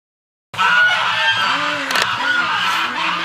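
Penned ducks call loudly and close by, a dense, continuous chorus of overlapping honking quacks that starts abruptly and keeps going without pause.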